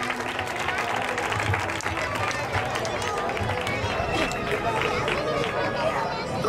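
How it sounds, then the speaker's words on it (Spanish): A competition audience claps in a steady, sustained wave of applause, with crowd babble running underneath the whole time. "al resto de la categoría, un fuerte aplauso y lo despedimos"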